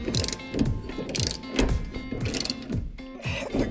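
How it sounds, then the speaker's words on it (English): Ratchet wrench working loose suspension bolts on a Grand Design Imagine RV during a MORryde suspension upgrade, giving steady rapid clicking bursts with repeated pulls, close and fairly loud. "So I'm getting these bolts off."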